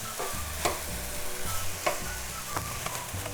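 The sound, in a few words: sugar being added and stirred into saffron rice in a pan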